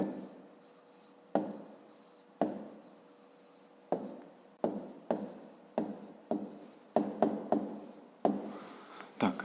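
Handwriting on paper while solving a grade-5 math exercise, with a pen scratching in short, separated strokes at close range, pausing between words and numbers, quiet and without talk.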